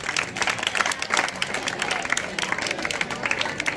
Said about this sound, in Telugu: విద్యార్థులంతా కూడా క్లాప్స్ కొట్టాలి